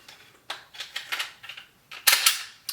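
A Glock 19 slide fitted with an Advantage Arms .22 LR conversion kit is pushed back onto the frame rails: a run of sharp, close metallic clicks and scrapes, ending in a louder snap as it seats. No talking.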